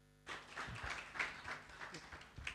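A short round of applause from a conference audience at an Oxfam inequality report launch, steady, soft and somewhat distant, with a voice faintly audible beneath it.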